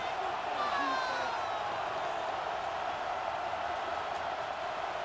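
Crowd roar in a Madden 26 video game stadium during a Las Vegas Raiders at New England Patriots matchup forms a steady, even wash of distant cheering noise that holds constant without peaks.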